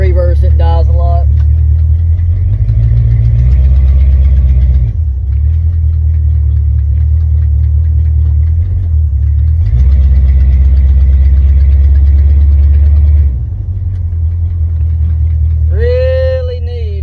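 A 1972 Dodge Dart engine idles loudly and steadily with a deep low rumble, its pitch dipping and rising a few times as the idle sags and recovers, with a brief tonal whine near the end.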